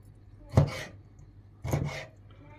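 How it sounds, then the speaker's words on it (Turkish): Two distinct knife chops through lamb hearts on a cutting board, each a short sharp thud about a second apart, close and clear over faint room noise. "Şu pişmeyen yerlerini kesip atacağım."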